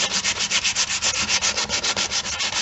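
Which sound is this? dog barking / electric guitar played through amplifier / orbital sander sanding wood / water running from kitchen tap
orbital sander sanding wood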